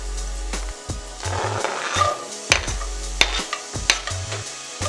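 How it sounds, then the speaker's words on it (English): Onions sizzle in olive oil while a spoon stirs them in the pan, with scraping and knocking strokes over a soft continuous fry, fairly close and moderately loud. "we're just gonna stir it around a bit. We're gonna wait till these onions are nice and soft"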